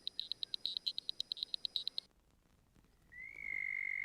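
Tree frog call from the video game Boku no Natsuyasumi 3: a rapid, even train of high, shrill chirps for two seconds, a short gap, then a steady, machine-like whistling trill, clear and close.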